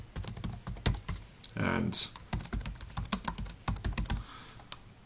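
Rapid, uneven keystrokes on a computer keyboard while sending a text message, close and crisp clicks in quick bursts with a short pause, a single spoken word partway through.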